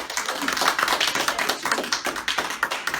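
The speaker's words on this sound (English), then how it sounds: "One last round of applause." Close, brisk applause from an audience at a public annual meeting, dense overlapping claps with an uneven rhythm, fairly loud and with no talking over it.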